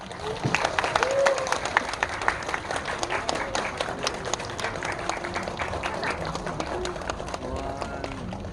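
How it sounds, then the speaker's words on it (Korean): Steady applause from a cinema audience greeting a film's director and actors on stage fills the space, many hands clapping at once with some voices mixed in. "큰 박수로 맞이해주세요"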